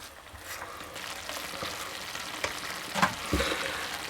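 Sloppy joe meat mixture sizzling in a pan: a steady, quiet frying hiss with a few crackles and the occasional clink of a utensil, close by, with no talk.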